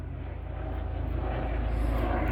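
A university helicopter flying very low overhead gives a steady, loud, close engine and rotor roar, dense and low-pitched, holding and swelling slightly without a break.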